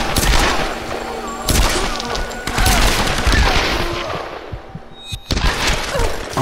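Rapid bursts of gunfire from a Tomb Raider video game, loud and dense with sharp cracks and breaking-like impacts, broken by brief pauses across the clip, with a voice faintly underneath.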